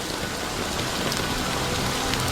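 Steady, dense rain falling and pattering on surfaces, a continuous even hiss with no other sounds.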